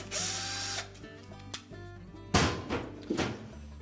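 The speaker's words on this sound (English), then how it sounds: "we'll next remove the single screw that secures the valve to that bracket" A power driver whirs and stops in short bursts, backing a 1/4 inch hex head screw out of the bracket holding the inlet valve on a Whirlpool washer, with clicks and rattles in between.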